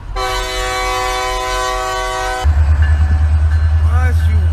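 A train's horn blares loud and sustained for about two seconds, then gives way to a heavy low rumble as the train passes close by at a traffic crossing where cars wait.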